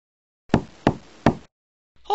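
Three firm, close knocks on a door in quick, even succession, followed by a brief pause and the start of another sound.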